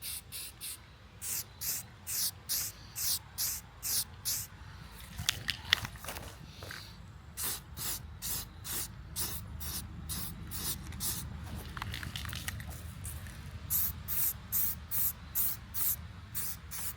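Aerosol spray paint going onto DeLorean headlights in a coat, a rhythm of short hissing bursts about once a second, with a longer continuous stretch of quieter handling noise in the middle before the regular bursts return.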